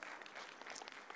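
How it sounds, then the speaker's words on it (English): Event attendees give volunteers a round of applause in a meeting room. The dense, even clapping is heard at low overall volume and continues through the short stretch. "give them a big hand of applause because they did a great job"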